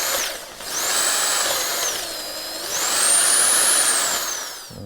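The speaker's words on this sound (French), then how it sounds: "Perceuse, tu perces." Power drill boring through a plastic part on a new 2025 KTM 300 EXC enduro motorcycle with a step drill bit, a loud close whine that rises and falls in pitch across two drilling passes, with no talk.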